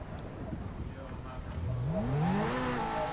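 A car engine in a roleplay video game revs upward under ongoing conversation, its pitch climbing steadily through the second half as the vehicle speeds up.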